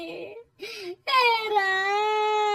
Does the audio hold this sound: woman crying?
yes